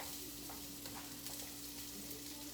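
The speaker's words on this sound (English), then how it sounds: "I don't know if you can hear it sizzling." Steady crackling sizzle of garlic and ginger frying in hot oil, continuous and close, with faint stirring clicks and no talking.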